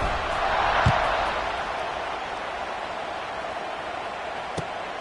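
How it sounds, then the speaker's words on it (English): Stadium crowd at a college football video game, a broad steady roar of many voices swelling slightly early then holding level, with a couple of faint thumps in the wash. "this crowd is buzzing after that last score"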